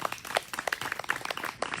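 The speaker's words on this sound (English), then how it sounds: "Yes, give them a round of applause" A small, scattered round of applause for performers at a socially distanced online cabaret fundraiser, sparse overlapping claps lasting under two seconds with no voices.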